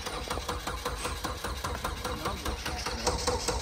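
A Ford F150 truck engine with a suspected small gas leak cranks over and over in a steady rhythmic churn, loud and close, with no clear catch into a running idle.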